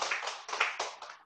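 A short burst of hand clapping from an audience at a talk, brisk and close, lasting about a second.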